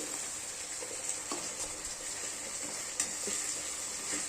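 Ground spice paste is stirred into a mutton curry with a soft, continuous sizzle and faint scraping, as occasional spoon clicks sound against the pot at low volume.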